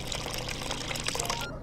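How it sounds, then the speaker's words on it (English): Thick blended protein fluid pours steadily onto a cube in a VR game, a continuous close liquid splash and trickle lasting almost the full length before it cuts off abruptly near the end. "Now just pour that blended protein fluid onto the cube and we are done."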